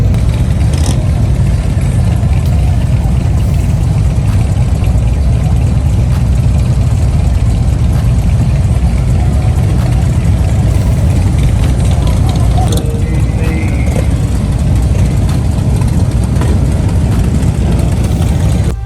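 A large group of Harley motorcycles at a charity toy ride on Florida's Gulf Coast, their engines idling and revving together in a loud, continuous rumble.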